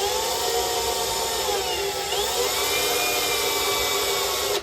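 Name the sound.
power drill drilling small hole in spot weld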